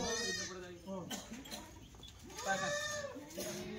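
Kathiawari goats at a farm bleat repeatedly, several wavering, nasal calls rising and falling close by, with someone talking among them.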